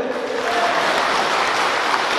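An audience claps continuously in applause for a Datuk at a Malaysian speech event, a dense, steady wash of hands throughout with no voices over it.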